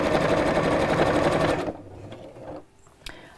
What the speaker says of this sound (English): literally sew all the way around the edge, closing the opening as I'm sewing.